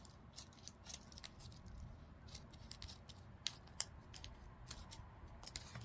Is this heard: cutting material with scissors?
yes